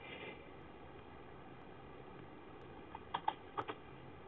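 A few sharp computer keyboard keystrokes, typed while entering a command in an Anaconda prompt on Windows, arrive as a short irregular burst near the end over a steady low background hum.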